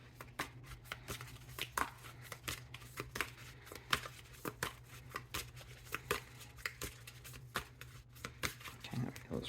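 Tarot cards being shuffled in quick repeated riffles and slaps, close and fairly quiet over a low steady hum.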